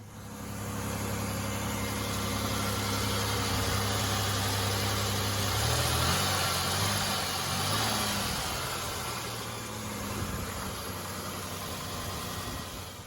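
A repaired Chevrolet Impala 3400 V6 idles steadily after a Heli-Coil fix to a stripped bolt hole, with a low, even hum and a faint change in its tone midway, close and alone with no talk.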